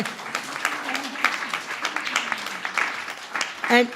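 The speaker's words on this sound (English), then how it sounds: "Are we allowed to clap?" Scattered audience clapping at a UK women's day commemoration, a loose patter of hands with cheering and voices mixed in, a brief whoop near the end.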